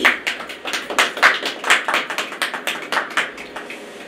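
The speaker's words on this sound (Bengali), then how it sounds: "জোরে হাততালি।" Loud clapping in a rapid, steady run of sharp hand claps, close and alone, at a Valentine's Day event.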